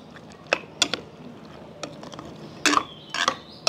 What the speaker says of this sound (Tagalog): Haluin ko muna bago ilagay yung ating saluyot